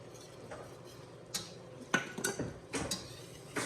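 A whisk scrapes and clinks against a pot while flour is stirred into melted butter, a handful of sharp metallic taps and brushing strokes, faint and close.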